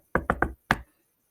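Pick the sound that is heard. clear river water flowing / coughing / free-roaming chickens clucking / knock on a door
knock on a door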